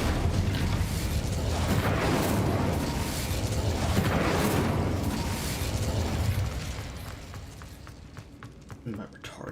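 An Incendio fire spell bursts in a Harry Potter video game, a loud roaring whoosh of flame that swells and fades over several seconds before trailing off into quieter clicks.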